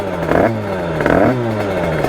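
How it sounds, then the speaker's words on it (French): A 2005 DRD Racing Limited 70cc motorbike engine, already warmed up, holds a raised idle with a steady close buzz and two brief swells of revs, with no one talking. "donc j'augmente encore un petit peu le ralenti"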